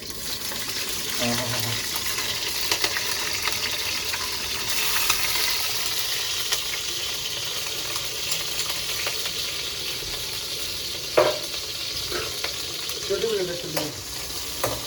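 Ghee with crushed green chillies frying in a pan makes a steady broadband sizzle and hiss, with occasional stirring scrapes and small clinks, fairly close and continuous throughout.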